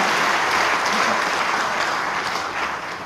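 Audience applause fills a hall at a church general assembly, a steady wash of many hands clapping loudly for about three seconds and tapering slightly at the end.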